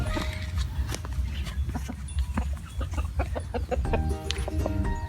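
Chickens cluck at a Thai backyard farm plot where water spinach grows, with sharp scattered calls over steady low outdoor noise that continues for several seconds, fairly close.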